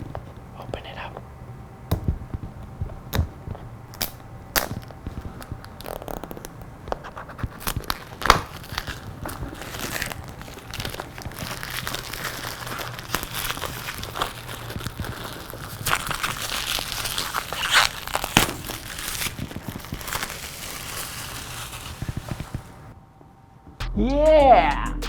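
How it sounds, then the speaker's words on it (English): OnePlus 8T phone packaging being unwrapped, close crinkling and crackling of plastic and cardboard with soft tearing and rustling throughout, while a person talks quietly over it. "So, alright, so we unwrap it."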